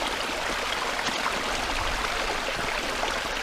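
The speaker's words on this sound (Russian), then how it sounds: "Вот ручей." A forest stream flowing steadily, a close, even rush of running water with no talk over it, continuous and unchanging throughout.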